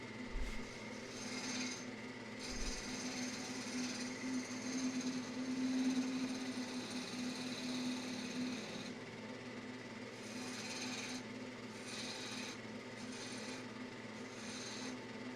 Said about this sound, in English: I'm going to start shaping it now with the gouge and cleaning it up.